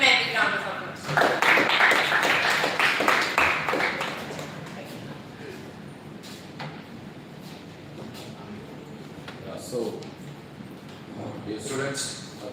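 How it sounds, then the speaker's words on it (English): Student audience applauding a student presenter at a seminar, loud clapping in the first few seconds that fades into a quieter murmur with scattered claps and taps as people talk. "Give him a big round of applause."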